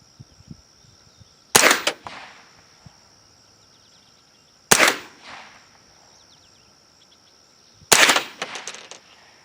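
Three sharp gunshots from an M&P 15-22 rifle fired at a target, spaced about three seconds apart, each crisp crack followed by a short ringing tail over a steady high insect-like whine.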